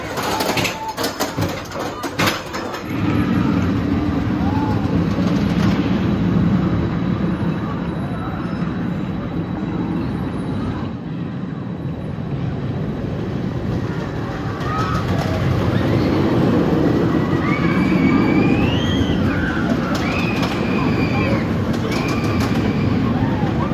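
A front-row ride on the Storm Chaser RMC roller coaster in Kentucky, with a constant loud rumble of the train on the track, wind roar and riders shouting over it.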